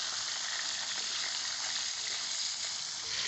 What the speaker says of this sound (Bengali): এখন আমি উল্টে পাল্টে বেশ ভালো করে ভেজে নেব।